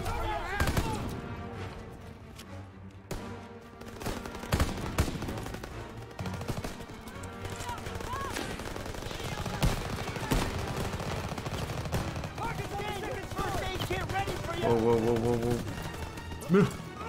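Turret gunfire in the video game Call of Duty: WW2, rapid bursts and scattered shots under a thick mix of battle noise and music, with a voice talking intermittently over the fighting.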